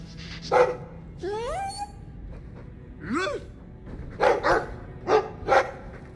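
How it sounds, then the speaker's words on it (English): A dog in the video game Dragon Age II gives a few short barks and whining yips in separate bursts at moderate loudness, with a voice heard alongside. "I like the doggy."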